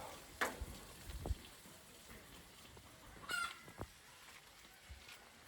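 A few faint clucks and short calls from chickens on a farm sound at a distance in the morning, scattered over quiet outdoor background noise.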